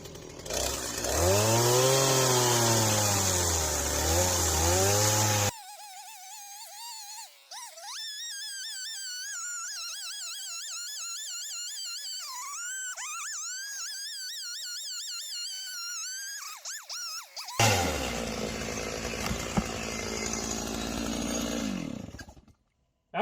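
A chainsaw with a freshly sharpened chain cuts a log freehand, its engine revving and bogging in long wavering bursts, loud and close, with the pitch rising and falling as the bar works through the wood.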